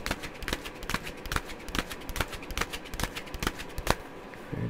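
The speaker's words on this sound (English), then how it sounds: "done shuffling" Tarot cards being shuffled by hand, a steady run of crisp riffling snaps and soft slaps close up, continuing for several seconds with no voice over them.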